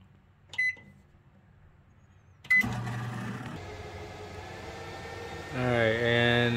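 A microwave oven on a home backup power system hums steadily after a beep and a click, its low drone continuing, then a louder whirring tone rises near the end.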